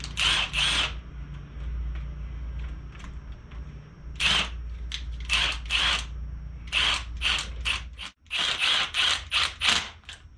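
A hand ratchet with a 12-point 14 mm socket runs down the head bolts on a Honda engine during a head gasket job, giving close, crisp bursts of rapid clicking separated by short pauses.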